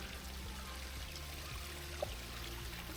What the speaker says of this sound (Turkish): fıskiyeler artık şelaleler yapay çeşmeler